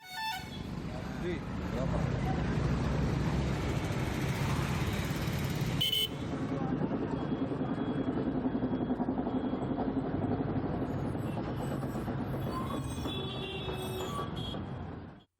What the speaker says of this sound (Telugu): డుగ్గుడుగ్గుమంటూ విపరీతమైన శబ్దం చేస్తూ వెళుతున్న ఈ బస్సు